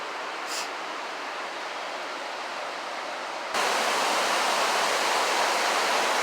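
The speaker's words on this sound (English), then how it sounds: "we just found this waterfall back here" A waterfall found on a family hike roars as a dense, unbroken rush of noise, turning noticeably louder and closer partway through and staying steady without any voices.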